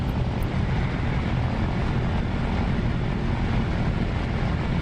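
An Fw 190 fighter's piston engine warming up at around 1,200 RPM in the DCS flight simulator, a steady, loud, close droning rumble holding constant throughout with no talking.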